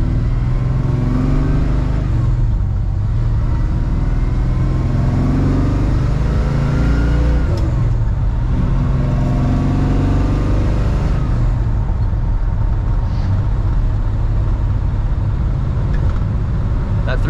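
A 1955 Chevrolet 210 with a 383 engine and headers rumbles steadily through its exhaust while driving, a continuous low drone with slight swells in revs, heard from inside the cabin.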